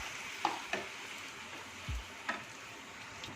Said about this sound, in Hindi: अच्छे से गर्म करने के बाद अब इसके अंदर डालेंगे भटूरे, और इसे डालने के साथ ही प्रेस करना है।